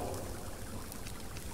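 Water being collected in the survival video game Subsistence, a steady broadband wash like pouring or running water that fills the whole moment evenly with no talk.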